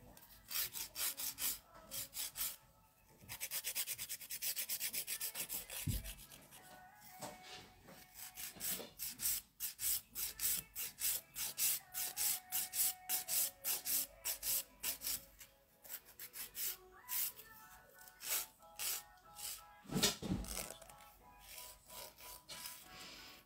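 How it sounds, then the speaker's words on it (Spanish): Filing a gel nail: quiet rhythmic rasping strokes repeated in bursts with short pauses, close and soft, with no talking. "Aquí tengo un pequeño desnivel, voy a seguir limando."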